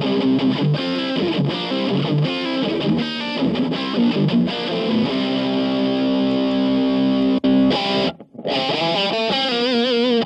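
Electric guitar played through a distortion effect pedal at a jam session, loud and sustained, with a thick, saturated tone. A sharp cutoff and brief gap near the end interrupt the chords before they resume. No voices.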